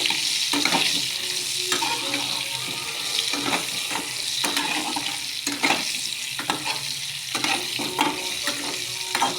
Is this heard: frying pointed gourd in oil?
yes